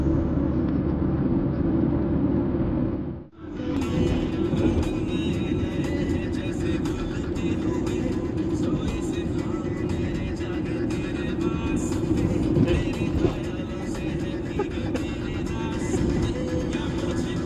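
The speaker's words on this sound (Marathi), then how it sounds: "हा गाडी चाललंय" A car drives at night on the Mumbai–Ratnagiri road, giving a steady close engine and road roar. The rumble dips briefly early on, then continues evenly.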